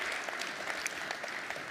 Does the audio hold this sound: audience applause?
yes